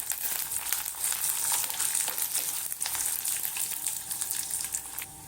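Peanuts and dried red chillies sauté in oil in a pan for a chutney, giving a steady, close hissing sizzle with light stirring scrapes throughout and no talking.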